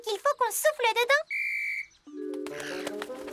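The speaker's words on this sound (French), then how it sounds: "Peut-être qu'il faut qu'on souffle dedans." A cartoon whistle gives one short, shrill, steady blast right after a bright child-like voice speaks, and lively music follows.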